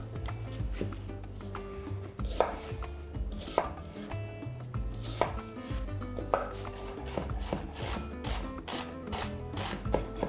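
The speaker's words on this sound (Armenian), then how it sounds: "կվերցնեմ 2 միջին գլուխ կարմիր սոխ, մանր կտրատում և տապակում ենք։" A knife finely chops two medium red onions on a board. Crisp, rapid blade taps come in uneven bursts, close and fairly quiet, with no talking.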